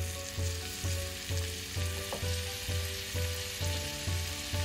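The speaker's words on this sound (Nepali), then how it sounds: "मैले यति बेला राखे एउटा मिडियम साइजको टमाटर मसिनो गरेर काटेको।" Finely chopped medium tomato frying in a pan for a Nepali chickpea curry, giving a steady loud sizzle with rhythmic scraping strokes of a spoon repeating about once a second.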